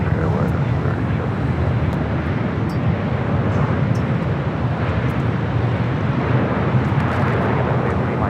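An Emirates Airbus A380 lands on runway 24 right at LAX, its jet engines giving a loud, steady roar that fills the whole stretch without letup.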